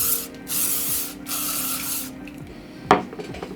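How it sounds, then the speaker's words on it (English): Hairspray hisses onto braided hair in several short, steady bursts from top to bottom, close and fairly loud, with a brief clatter of a can or handling noise near the end. "I'm going to take some hairspray and I'm going to spray it from the top all the way down to the bottom."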